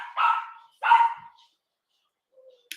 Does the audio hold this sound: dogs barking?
yes